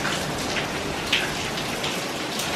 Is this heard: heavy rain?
yes